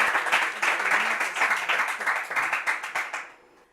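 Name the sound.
audience applause for quiz contestants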